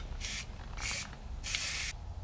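Spray paint hisses from a can onto a semi truck driveshaft in three separate bursts, each roughly a quarter to half second long, close and fairly quiet over a low background rumble.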